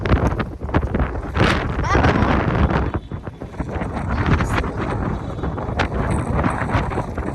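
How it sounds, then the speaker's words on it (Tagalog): Strong wind buffets the microphone in heavy rumbling gusts while people talk over it. "Lakas ng hangin."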